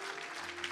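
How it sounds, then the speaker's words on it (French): A church congregation at a Paris worship service breaks into applause, a brief, dense burst of clapping that stays steady throughout. "Acclamons pour lui."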